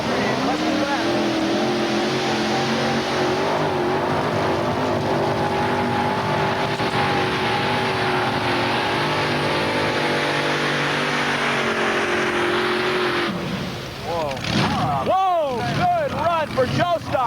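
A modified pulling tractor called the Wild Child, carrying three Chevrolet motors, roars loudly and steadily at a 1995 tractor pull in Bowling Green, Ohio. The engines cut out near the end, followed by scattered noise, and talk can be heard over the sound.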